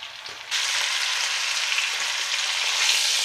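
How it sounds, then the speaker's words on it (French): Pork roast searing over high heat in a shallow layer of oil with a little butter, a loud, steady sizzle that swells after a brief quieter start and holds evenly close by, with no talking. "je fais dorer les 4 faces de façon à avoir une viande qui soit bien colorée"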